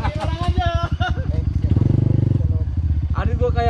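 A new two-stroke motorcycle passes close by with a buzzing, rising and falling engine note, its pulsing drone strongest in the middle, while voices and outdoor clatter continue around it.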